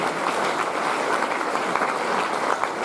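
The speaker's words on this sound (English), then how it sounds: "these guys need a massive round of applause" A briefing-night audience for a Gold Coast Kokoda Challenge event applauding, a continuous even patter of many hands clapping at moderate level without pause.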